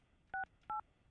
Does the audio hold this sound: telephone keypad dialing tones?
yes